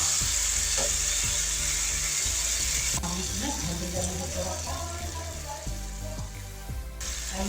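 Pasta sizzling and frying in a pan with pasta masala, a continuous close crackle and hiss with stirring scrapes and clinks, loud and steady throughout.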